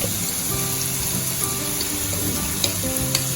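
Pounded onion, garlic and ginger frying in a pan of oil, a steady close sizzle running throughout with light clinks and stirring sounds on top.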